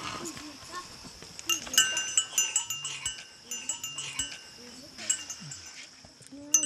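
Cattle and calves being forcibly separated by Mursi herders in Ethiopia, with bleating calls, rattling bells and shouting people over a busy outdoor morning scene.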